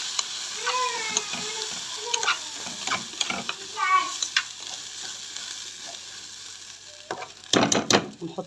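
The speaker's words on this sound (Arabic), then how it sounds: "حمر فيه البصل الرز بسرعة كده" Rice and onions frying in oil in a pot, stirred with quick scraping strokes over a soft constant sizzle, ending with a few louder clattering stirs. A voice is heard briefly.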